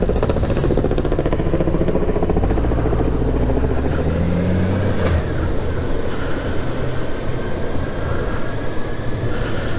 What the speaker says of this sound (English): I actually heard that motorcycle.